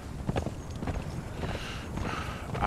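Horse hooves clip-clop at a steady walking rhythm while riding in Conan Exiles, fairly close, under faint wind and ambient game noise.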